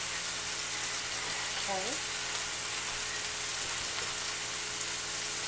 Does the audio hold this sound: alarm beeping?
no